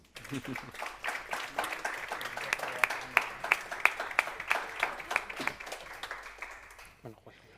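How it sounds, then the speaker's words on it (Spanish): An audience at a round-table youth panel on the 2030 Agenda breaks into steady applause for the speakers, a crowd of many hands clapping at close range that fades out at the end, with some voices underneath. "Así que, ahora sí, un aplauso para ellos."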